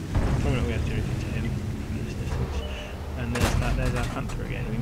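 A Comet tank in World of Tanks fires its 77 mm gun: one sharp, loud boom cracks out over a constant rumble of engine and wind, with a voice faintly present.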